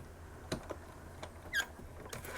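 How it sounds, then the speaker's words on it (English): A short, sharp creak from a squeaky chair stands out among a few soft taps and clicks in an otherwise quiet room. "Squeaky chair."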